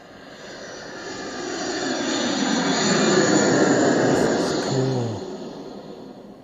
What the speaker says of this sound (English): I hopped on a plane to Italy.